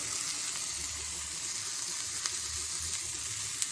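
Chopped onion fries in a pan for a leaf thoran, giving a close, continuous sizzle with a few faint pops and light stirring noises.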